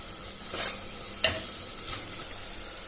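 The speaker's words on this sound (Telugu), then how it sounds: "ఇప్పుడు మనం ఆనియన్ కాస్త ఎర్రపడే వరకు కలుపుకొని పెట్టుకోవాలి" Onions sizzling in oil in a pan for vegetable pulao masala, stirred steadily with a spoon that scrapes softly against the pan, with one sharper knock partway through.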